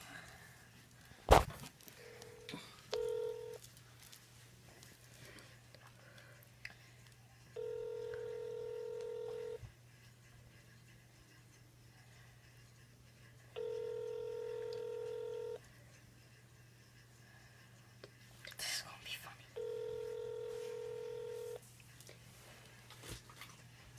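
A telephone is dialed to place a prank call to a fast-food restaurant. A sharp knock comes first, then a few short keypad beeps and several long, evenly spaced tones, quiet against a low background hum.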